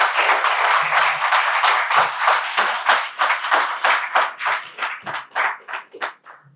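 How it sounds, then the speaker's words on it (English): Loud round of applause from an audience thanking a discussion panel at a UK education event, dense clapping that thins into more distinct, separate claps toward the end. "Can I please have a really loud round of applause,"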